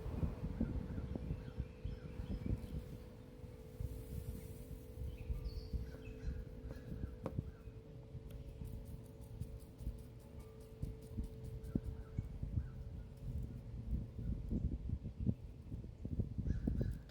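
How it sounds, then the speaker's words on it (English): Crows caw in a backyard, agitated over peanuts set out nearby: scattered harsh calls at middle distance rising over a steady low hum and rustle, with no voices. "My crows are all having a fit out in the yard"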